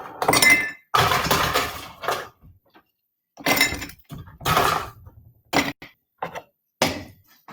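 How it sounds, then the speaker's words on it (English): Ice cubes rattle and clink into a margarita glass in several bursts, sharp clattering hits separated by short silences. "And then throw some ice in the glass."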